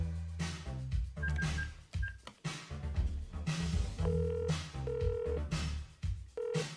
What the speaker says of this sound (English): I'll phone the taxi.